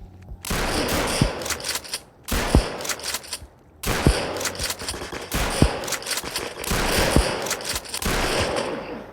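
Gunfire in the video game rec.o.r.d: repeated bursts of rapid automatic shots separated by short pauses, loud and close, with no talk.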